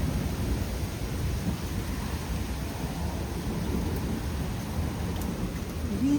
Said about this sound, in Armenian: անձրևի ձայնը, որ գալիս է